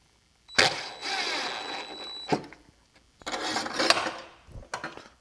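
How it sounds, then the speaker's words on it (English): A screw being driven into an old drop leaf table by a power drill, two close bursts of buzzing whir around a second long each, separated by a short pause and a sharp click. "this one I'm going to screw through now"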